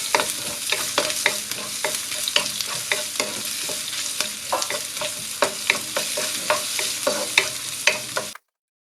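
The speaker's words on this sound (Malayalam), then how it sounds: "ഉള്ളിയൊക്കെ ഒന്ന് ചെറുതായിട്ട് വഴറ്റിയെടുത്തതിന് ശേഷം" Finely chopped onion sautés in a pan for a green gram and banana flower stir-fry, a steady sizzle punctuated by frequent quick scraping stirs of a spatula until it cuts off abruptly.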